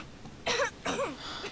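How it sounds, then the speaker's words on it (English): A character in a Nintendo video game coughs twice in quick succession, short rough bursts close up against a quiet background. "that cough doesn't sound too good"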